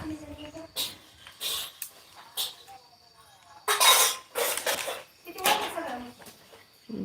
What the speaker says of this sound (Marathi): आज भांड्यांचाच आवाज यायला लागलाय भांडी घासाय चालू आहेत